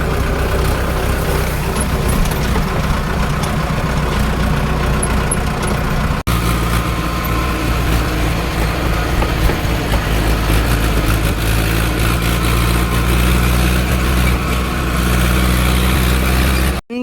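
A running farm tractor drones loudly and steadily at close range, its low engine rumble continuous with slight rises in pitch and no speech over it.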